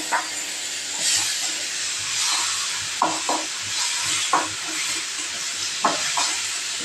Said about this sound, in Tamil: இப்போது தக்காளி அதையும் போட்டு கொஞ்சம் அதே எண்ணெயோடவே அப்படியே வதங்குறேன்.